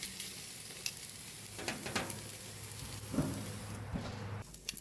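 Ribeye steaks sizzling on a grill with the lid open, a steady crackling sizzle with a few tong clicks and scrapes as the steaks are rotated, no talking.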